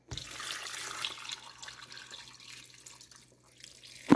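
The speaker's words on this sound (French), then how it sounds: "je rajoute de l'eau." Water poured into a cooking pot holding chili pepper for a Cameroonian dish, a soft steady splashing stream that continues for several seconds and ends with a sharp clunk, close and faint.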